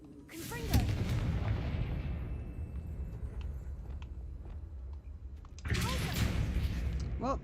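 Confringo fire spell cast in Hogwarts Legacy, a loud explosive burst followed by a rumbling, crackling tail that fades, then a second sharp blast near the end; a voice speaks briefly underneath.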